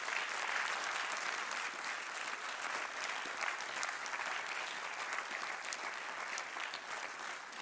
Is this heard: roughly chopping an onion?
no